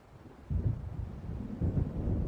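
Low, rolling thunder from an approaching storm in the video game Alan Wake, rumbling in two swells with rain and wind beneath, fairly distant and steady, no voices.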